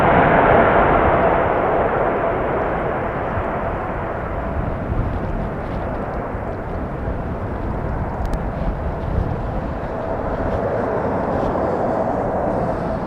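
A departing airliner on runway 36L at Amsterdam Schiphol in showery weather produces a continuous, heavy jet roar that holds loud and steady for the whole stretch, with no voices.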